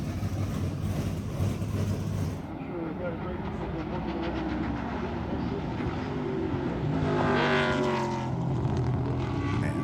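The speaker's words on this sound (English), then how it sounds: "The Corvettes were fun to watch. I mean, they have a good sound to them." Corvette race cars roar past on a track at a historic sports car race, engines droning loudly and continuously, with one car's revving pitch sweeping upward near the end.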